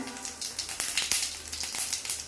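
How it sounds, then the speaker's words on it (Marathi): Cumin and mustard seeds sizzle in two spoons of hot oil for a tempering. A dense crackling hiss is heard, with rapid popping bursts spread unevenly through the sound. "त्यानंतर आपण फोडणी देणार आहोत."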